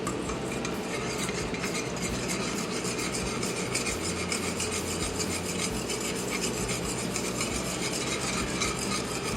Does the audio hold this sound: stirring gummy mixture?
yes